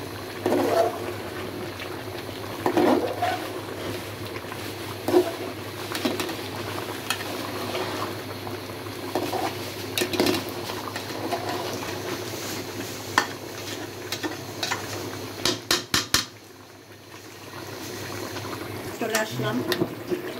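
Chicken and potato curry being stirred in a pot, with scattered spoon scrapes and knocks over a low simmering bubble, and a few faint pot clinks toward the end.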